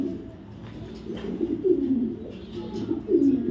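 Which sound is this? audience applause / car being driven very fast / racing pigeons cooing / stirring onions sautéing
racing pigeons cooing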